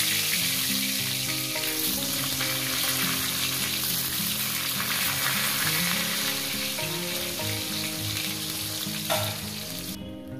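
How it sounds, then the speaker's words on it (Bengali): Pointed gourd (potol) pieces frying in hot oil, a steady loud sizzle and crackle that runs the whole time, with faint stirring and utensil scrapes and no talk. "প্রথমেই দিয়ে দেবো পটল।"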